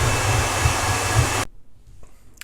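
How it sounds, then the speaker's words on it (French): Hair dryer blowing on handmade cotton flowers, a loud steady whooshing roar that cuts off abruptly partway through, leaving near silence with a faint click. "on va passer un petit coup de sèche-cheveux"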